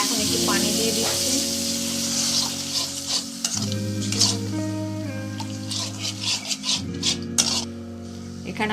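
Water added to fried onion and garlic paste for pabda fish curry brings a close, bubbling sizzle and repeated scraping stirs in the pan, with background music throughout.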